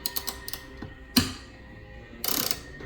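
A ratchet undoes bolts on a Chamberlain 3255M garage door opener, giving a few quick clicking bursts, a sharp metallic clack, then a short rattling run, close and fairly quiet.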